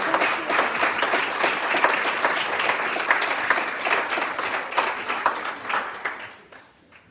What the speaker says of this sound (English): give them a round of applause for their hard work and dedication throughout the year